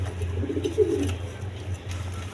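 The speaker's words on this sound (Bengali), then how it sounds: "এইখানে আছে আপনার এই লোটন কবুতর আছে, ডিমে চলেছে" Lotan pigeons on a farm give low, soft coos, one clear rolling coo near the start, over steady background hum.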